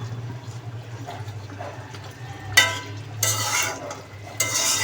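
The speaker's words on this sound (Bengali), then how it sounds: "এর মধ্যে আবার ঢাকনা খুলে আরেকটু নাড়াচাড়া দিয়ে দিব।" Pangas fish head curry stirred in a pan after the lid is lifted, a few scraping spoon strokes in the second half over a low steady hum and gentle simmer.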